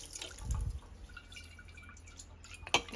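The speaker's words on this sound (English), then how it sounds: "So we're just going to add a little bit of water because I don't have a ladle." Water added into a pot of Zuppa Toscana soup, heard as faint drips and a soft liquid trickle in a quiet kitchen, with a brief splash near the start.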